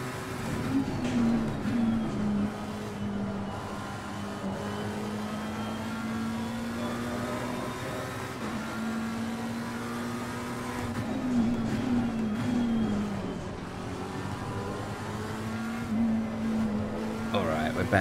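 Race car engine from a sim racing video game, a steady droning tone that rises and dips through gear changes for the full stretch, with a voice faintly in the background.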